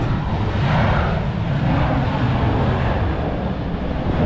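Spirit Airlines airliner taking off at the airport, a steady loud jet engine roar with a broad rumbling wash that holds constant throughout.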